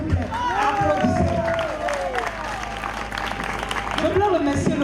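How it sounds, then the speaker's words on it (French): Audience applause and crowd noise at an International Reggae Day celebration in Grand Bassam, steady and dense throughout, with voices and shouts rising over the clapping. "Son Excellence, M. Jean Moulou, s'il vous plaît, applaudissez."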